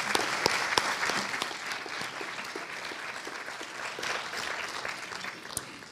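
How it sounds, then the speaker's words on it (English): Audience applause at an event presenting the Mona Lisa project in Linz, a steady dense patter of clapping from a room full of people, moderately distant and sustained throughout with no talk over it. "Applause."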